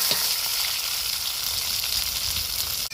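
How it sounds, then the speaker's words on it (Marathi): Masala and chilies dropped together into hot oil, giving a loud, continuous, crackling sizzle close by, with a brief knock near the end and no talking. "तेल टाकून घेतलेले आणि आता ते मसाला मिरच्या सगळे एकदम टाकलेले"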